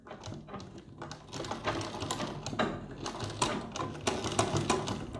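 A sewing machine runs in a close, steady mechanical whir with a soft rhythmic clatter, stitching a decorative shower neck design on a kurti, with no voices.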